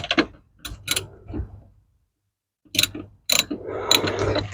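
A 10 millimeter wrench ratchets in short bursts on the negative battery terminal nut of a 1987 Honda CRX, a brief pause splitting two clusters of sharp, close clicking and metal scraping.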